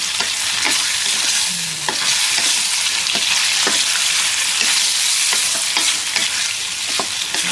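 Cooked liver stirred and tossed through chili paste in a hot pan, a steady sizzle under repeated scrapes and clicks of the spatula across the metal, close and continuous with no talking.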